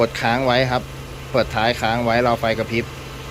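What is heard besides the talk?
No everyday noises stand out.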